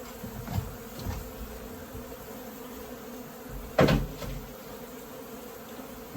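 Honey bees buzzing during a removal from a church: a steady close drone of many bees throughout, with a louder bee passing near the microphone midway and faint knocks in the background.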